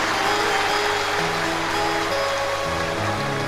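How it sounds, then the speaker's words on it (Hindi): An audience at a Shiv Mahapuran katha, a Hindu religious gathering, bursts into loud, dense, continuous clapping to welcome the host family, with a faint tonal hum underneath. "एक बार यजमान परिवार के लिए जोरदार ताली बजाकर स्वागत वंदन अभिनंदन।"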